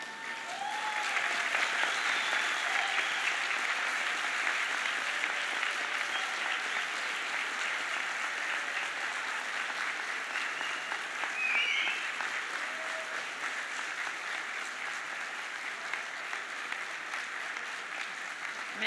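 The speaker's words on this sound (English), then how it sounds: "you give a big round of applause for all the people who have been there for you" A graduation ceremony crowd applauds for the class of 2018, a broad, even wash of clapping that holds at a steady level throughout, with a faint whistle or two and no talk above it.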